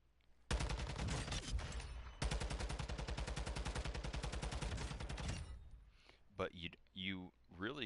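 A rapid automatic weapon fires in Call of Duty DMZ, out in the open: two long sustained bursts of evenly spaced shots, loud and close, then someone talks as the firing stops.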